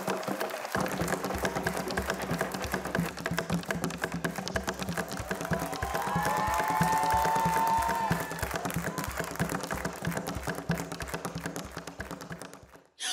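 Audience at a stand-up comedy festival show breaking into sustained clapping and cheering, a dense, steady wash of applause with music playing underneath.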